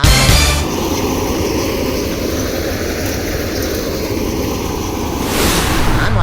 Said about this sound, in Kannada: ಮಿಷಿನ್ನ ಕರ್ಕೊಂಬಂದು ರಾಗಿ ತೆನೆನ ಒರೆಸುವ ಅಂತ ರೆಡಿ ಮಾಡ್ತಾ ಇದ್ದೀನಿ